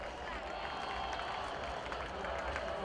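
Crowd clapping in the stands at a high school football game between Springboro and Beavercreek, a steady wash of distant applause and crowd noise that runs unbroken through the whole stretch.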